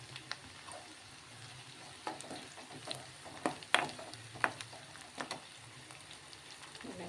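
Curry leaves, two sprigs, dropped into hot oil as tempering for amaranth-leaf dal, crackling and sizzling steadily with sharp pops scattered through, close and fairly quiet, no talk.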